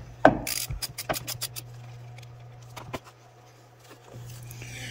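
Ratchet loosening the 10 mm negative battery terminal on a 2014 Chevrolet Silverado 1500 LT with a 4.3L V6, a few quick bursts of close, crisp clicking in short runs, then a pause and a final couple of clicks.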